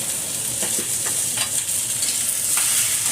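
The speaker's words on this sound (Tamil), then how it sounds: "இப்போ வெறும் வெண்டைக்காயை போட்டு கொஞ்சமாக மஞ்சள் பொடி போட்டுருக்கேன்." Okra sautéing with a little turmeric in coconut oil in a pan, a steady bright sizzle with a few soft stirring scrapes, close and continuous with no voices.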